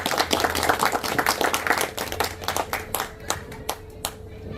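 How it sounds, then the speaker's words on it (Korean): A crowd claps at a church thanksgiving service for a Christian officers' association chapter, welcoming its new president. Dense, near clapping thins after a couple of seconds into a few scattered, separate claps. "뜨겁게 박수해 주시죠."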